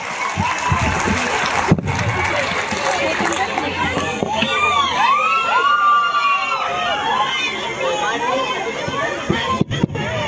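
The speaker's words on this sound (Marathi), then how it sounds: "आता टाळ्या वाजवून 8वीच्या विद्यार्थ्यांचे स्वागत करा" Schoolchildren clap together to welcome eighth-grade students at a school cultural event, a dense, continuous patter of many hands mixed with crowd chatter and voices.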